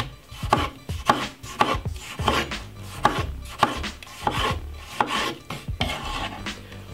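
A knife chopping a medium tomato into very small pieces on a board, a steady series of close, crisp rasping cuts with a regular rhythm and no talk.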